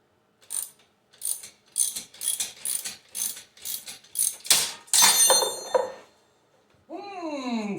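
Ratchet tightening a loose top spacer on a Suzuki KingQuad 750 ATV during a Camso X4S track install: a run of about ten quick clicking bursts, close and fairly loud, then a longer grinding stretch before a voice briefly breaks in.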